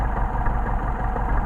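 A steady, close engine idle rumbles on with a low, uneven throb as the idle begins to sag and degrade, with no other sounds over it.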